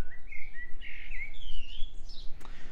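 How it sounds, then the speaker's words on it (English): Wild birds sing in an English garden in early May, with clear, bright chirping phrases and a sweeping whistle close by over a quiet background, with no voices. "this area is always full of birds, absolutely just full of birds"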